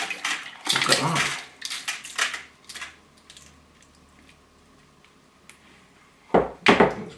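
Mixed rocks rinsed in a tub of water, producing clattering splashes and stony knocks in bursts at the start and again near the end, with quieter sloshing between.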